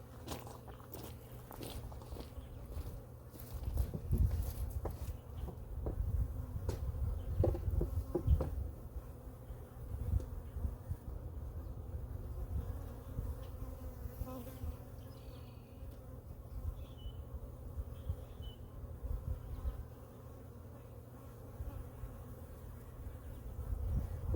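Honeybees buzz steadily around an opened hive during a hive split, a faint droning swarm with scattered knocks and handling sounds from the boxes close by.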